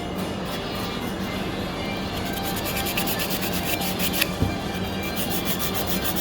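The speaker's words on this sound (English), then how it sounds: "is this hand sanding again" Steady rasping hand sanding of a surface, a continuous rubbing texture with an even, repetitive rhythm, close and moderately loud with no talk.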